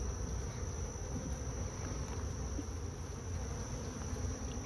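Honey bees buzzing around an open hive on a hot summer morning, a dense steady drone of many wings close by, unbroken for the whole stretch with no voices.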